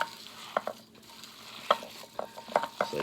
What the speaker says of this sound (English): what I'm gonna go ahead and do is mix all this up real quick